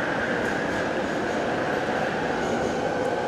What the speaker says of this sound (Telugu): అబ్బా ట్రైన్ మాత్రం భలే ఉంది